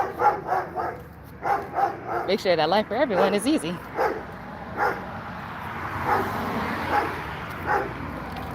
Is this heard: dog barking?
yes